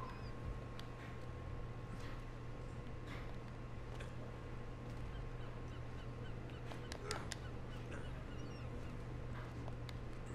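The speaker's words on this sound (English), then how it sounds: "Birds are all swarming around me." Birds caw and honk while swarming around the player's character near a tower in the game Uncharted: Drake's Fortune, scattered calls over a constant low droning game ambience, with no talking.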